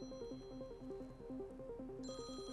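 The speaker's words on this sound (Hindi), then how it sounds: "घंटी बज रही है।" A phone rings in a Hindi drama film with a repeating electronic melody that alternates between two tones in a steady pattern, carrying on without a pause, with a higher tone joining near the end.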